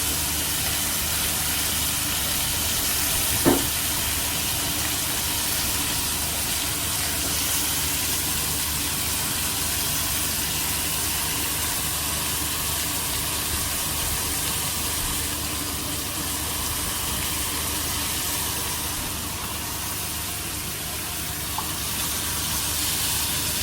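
Food sizzling and frying in a pan over high heat, a steady dense hiss that runs unbroken throughout with one faint clink early on.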